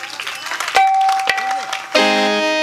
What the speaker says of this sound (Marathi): एकदा जोरदार टाळी वाजवा बरं.